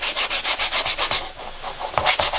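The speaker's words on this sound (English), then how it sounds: "So I always sand everything lightly, kind of go over it" Sandpaper rubs lightly and quickly over a surface during prep work, making rhythmic back-and-forth scratching strokes, close and steady, with a brief pause partway through.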